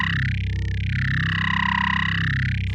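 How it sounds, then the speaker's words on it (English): Synthesizer run through a phase distortion effect akin to a ring modulator, giving a loud, continuous metallic buzzing tone whose resonant band sweeps slowly down and back up over nearly three seconds, close and alone. "phase distortion. I assume it's kind of like a ring mod."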